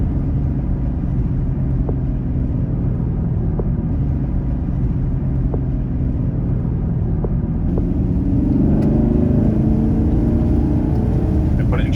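A 2022 Chevrolet Camaro SS 1LE on a lap of Daytona raceway, its engine a steady, close, droning rumble that swells and rises in pitch toward the end as it accelerates.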